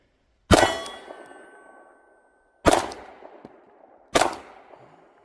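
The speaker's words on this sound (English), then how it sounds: "We'll shoot like, I don't know, 3 rounds with the dot." Three sharp gunshots from a pistol fitted with a CVLIFE WolfCovert red dot sight, each a loud ringing crack with a decaying metallic tail, spaced about two seconds then one and a half seconds apart, with no talking.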